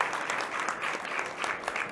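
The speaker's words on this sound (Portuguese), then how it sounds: "salva de palmas para a Bel," An audience claps steadily for presenters at a fintech pitch competition at a banking technology event. The applause is dense and even, sustained across the whole moment, with no voices over it.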